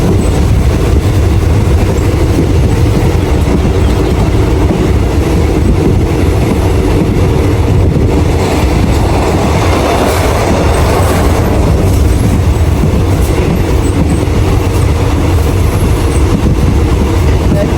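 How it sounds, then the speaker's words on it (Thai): Loud, continuous rattling and clattering of train wheels on rails, heard from inside a moving passenger carriage in Thailand with a steady roaring rumble throughout. "รถไฟมันสิดัง กึกกัก กึกกัก กึกกักกึกกักเลย"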